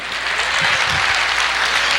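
A church congregation applauding during a Portuguese-language sermon, a loud, unbroken roar of many hands clapping throughout, with a voice faintly audible underneath.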